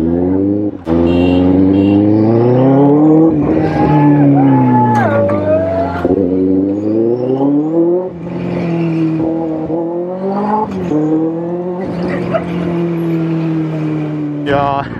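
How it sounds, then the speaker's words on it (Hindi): A loud Benelli 600i motorcycle on a street in Jaipur revs hard and close, its engine note repeatedly rising and falling in long throaty sweeps for about fifteen seconds. "बहुत लाउड है यार ये बाइक, मतलब अच्छी खासी लाउड है।"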